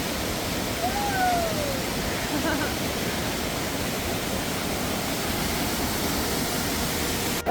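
A river waterfall pours with a dense, constant roar, loud and close, steady from start to end, with a faint whistle or call briefly rising over the rushing water.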